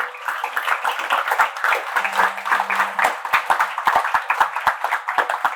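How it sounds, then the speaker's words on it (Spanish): Standing church congregation applauding the Lord during a sermon, rhythmic, fairly loud clapping with sharp individual claps over a dense layer, continuing steadily throughout. "vamos a darle un fuerte aplauso al Señor"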